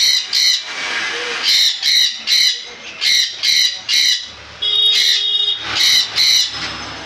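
Pet conures, lovebirds and cockatiels squawking close by, about ten loud, sharp calls in quick bursts with short gaps between them.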